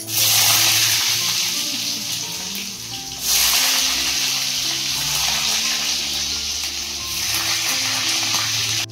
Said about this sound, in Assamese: এতিয়া বোলে আলুখিনি ভাজি ল'ব আগতে।